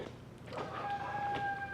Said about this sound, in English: That rooster every time